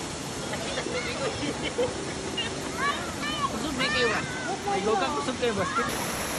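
A steady roar of a waterfall in Japan fills the scene, with voices talking over the rushing noise throughout.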